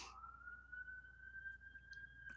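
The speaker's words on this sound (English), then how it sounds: "There's my ambulance." An ambulance siren wails faintly in the distance, a single steady rising tone holding through the moment with no voices over it.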